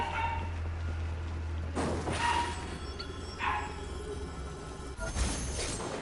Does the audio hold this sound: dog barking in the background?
yes